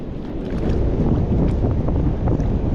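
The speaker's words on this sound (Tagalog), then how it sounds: "Lakas ang hangin" Strong wind roars continuously against the microphone while fishing, a dense low rumbling blast with no speech.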